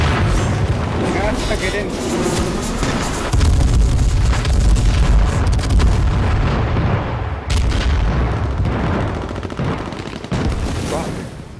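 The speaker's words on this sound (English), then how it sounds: "They threw a fucking airstrike" Airstrike explosions in the battle royale game H1Z1 on a farm, heavy booms and rumbling blasts piling up loud and close with gunfire crackling through, while players talk excitedly over the chaos.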